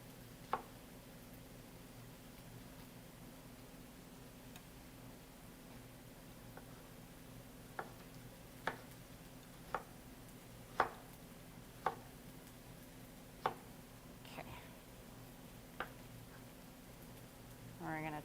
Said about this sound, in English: We're just going to cut our tomato into thin slices.